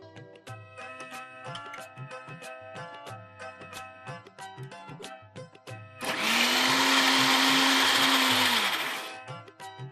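Music plays, then a mixer grinder whirs loudly for about three seconds in a steady high-pitched hum, grinding a batter of barnyard millet and sago, before stopping.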